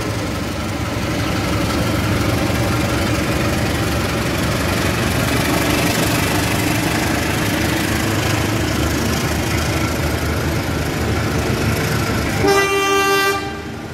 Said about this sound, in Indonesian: Kereta Kuto Jaya Utara Tambahan.